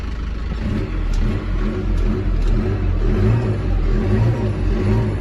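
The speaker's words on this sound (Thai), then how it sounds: "เครื่องดีนะ อัตราเร่งดีนะ" A 2004 Isuzu D-Max 2.5 direct turbo diesel, a pickup offered for sale, revs repeatedly nearby, its loud engine rumbling and rising in waves over several seconds.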